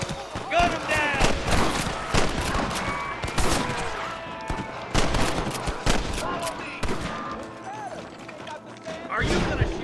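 Rapid gunfire in the western video game Red Dead Redemption, dense repeated cracks and shots in an irregular rhythm, loud and close, with voices shouting in between.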